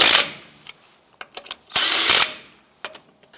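A power tool snugs down the lug nuts on a 2004-2012 Chevy Colorado wheel, giving two loud close whirring bursts, one short and one longer, with small mechanical clicks and knocks between them.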